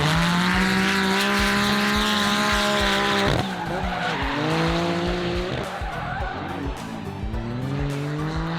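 A loud three-rotor Mazda RX-7 race car roars and revs close by at a Gridlife time attack event, pitch climbing and dropping through gear changes, with tires squealing over the continuous howl.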